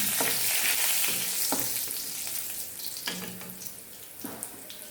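Curry leaves being stirred in hot oil in a frying pan after a pinch of asafoetida, for a Kathiyawadi gathiya shaak: steady loud sizzling with a few sharp spoon scrapes against the pan, and no talking.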